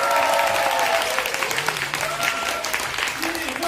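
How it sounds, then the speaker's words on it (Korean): An audience at a book concert applauding and cheering loudly, with dense steady clapping and whoops throughout, and a voice calling out over the crowd. "이렇게 환호해주셔서 대단히 감사합니다"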